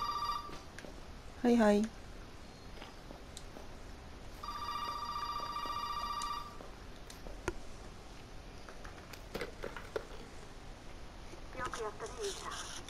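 In Resident Evil 7, a telephone rings in two bursts, a short electronic trill and then a longer ring, fairly faint under a man's speech and light clatter.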